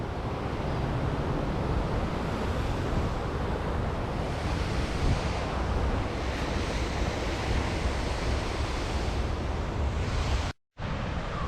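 A waterfall pours steadily in the Scottish wilderness as a loud, unbroken broadband roar, mixed with wind buffeting the microphone, with a brief cut near the end and no talk.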